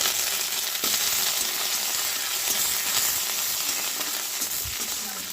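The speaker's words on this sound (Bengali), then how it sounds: "এরপরে দিয়ে দেবো একটু কারি পাতা ফোড়নে" Curry leaves sizzling in hot oil as a tempering for toor dal fry, a loud continuous crackling hiss with small pops throughout.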